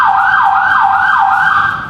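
A Thai ambulance siren wails loud and close in a steady repeating rise-and-fall sweep, about three cycles with no other sounds over it.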